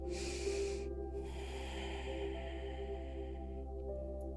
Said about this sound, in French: Inspire, expire profondément par le nez.